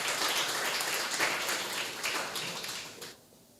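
A church congregation claps together during a Sunday evening service, a dense, steady patter of many hands that fills the room for about three seconds before stopping abruptly.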